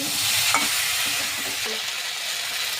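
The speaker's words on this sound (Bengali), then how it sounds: "এবার হলুদটা দিয়ে নাড়িয়ে নিচ্ছি" Steady frying sizzle of mixed vegetables with turmeric, with scraping and stirring clatter from a spoon in a pan, close and continuous, no voices.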